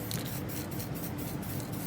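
A spray can of flat black primer hisses continuously while coating miniatures from close range, the hiss sputtering slightly unevenly from a loose spray cap, with no talk.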